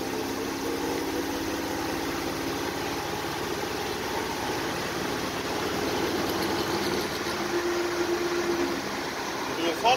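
Steady mid-range engine drone inside a 1941 Dodge WC truck on a ride, continuous cabin rumble with vibration throughout, and a brief tonal whine near the end.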